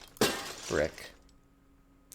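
A single sharp shatter of glass in the Herman Electro game, brief and bright, followed by a short tail and quiet, with a voice speaking alongside.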